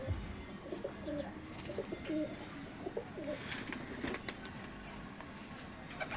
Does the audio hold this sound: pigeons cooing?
yes